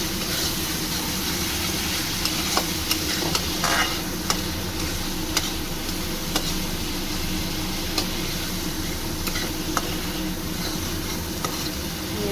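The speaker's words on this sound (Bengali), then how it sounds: "একটু মশলাটা কষিয়ে নেব।" Spice masala stirring and frying in oil in a pan for doi ilish (hilsa in yogurt): a steady, loud sizzle throughout, broken by sharp scraping clicks of a spoon against the pan.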